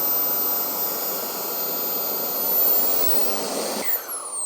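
A Kingtech K45G4 model jet turbine engine runs on a test bench, a loud steady whooshing roar with a high whine, close by, then a sudden drop and changing pitch near the end as it falters.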